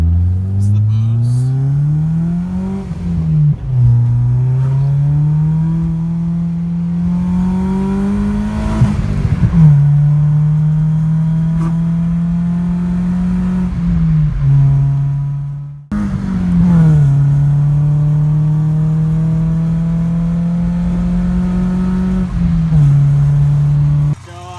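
Supercharged BMW E30 with a new FMU pulling hard on a highway, its engine note rising in long climbs through the gears with brief dips at each shift, loud and close from inside the car with boost audible throughout.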